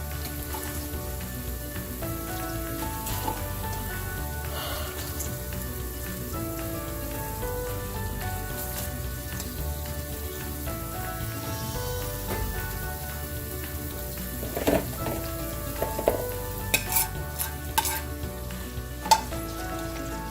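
Slices of beef tongue in Goan roast gravy sizzle steadily in a pan, a continuous close bubbling crackle with a few sharper pops toward the end.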